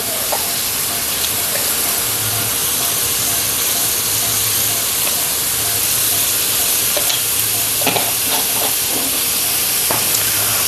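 Beef curry frying in a pan with steady close sizzling and hiss throughout, broken by occasional scrapes and clinks of stirring, no voices.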